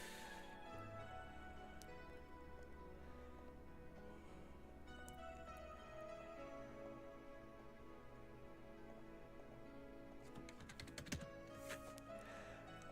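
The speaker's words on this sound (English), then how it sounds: "I don't know if the mic picks up my keyboard. It's very tippy-tappy keyboard." Rapid clicks of typing on a mechanical computer keyboard run steadily under continuous background music, close to the microphone.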